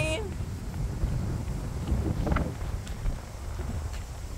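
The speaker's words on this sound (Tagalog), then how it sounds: "Ang hangin." Gusty wind buffeting the microphone with low rumbling roar, continuous and fluctuating, with a few faint clicks and rustles.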